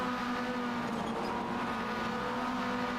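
Race cars lapping the Charlotte Motor Speedway oval in the iRacing simulator, a steady droning engine roar that holds at constant pitch and level throughout, without distinct pass-bys.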